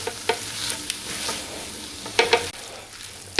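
Garlic, ginger and onions sauté in a pan for channa masala, a steady close sizzle broken by a few stirring and tossing scrapes.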